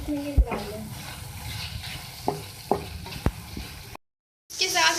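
Chicken and onion frying in a pan, a steady crackling sizzle with clinks and stirring knocks from a utensil, brief tap-like hits, a short gap, then the sizzle resumes brighter.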